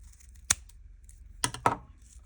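The top stop of a jacket zipper is snipped off, with three sharp, close clicks, one near the start and two close together later, over near-silence.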